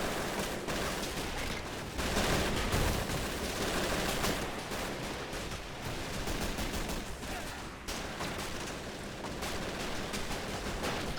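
MG42 machine gun fire in Men of War: Assault Squad 2, a dense, loud, continuous fusillade of rapid bursts mixed with battlefield noise as infantry charge uphill, with a tank cooking off in the background.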